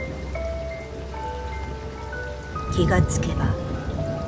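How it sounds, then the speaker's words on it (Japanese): Heavy downpour in a Japanese horror audio drama: a dense, steady roar of rain throughout, swelling louder in the last second and a half, with a narrator's voice speaking briefly over it. "土砂降りの雨になっていた。"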